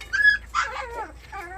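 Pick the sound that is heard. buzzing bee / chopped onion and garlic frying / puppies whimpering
puppies whimpering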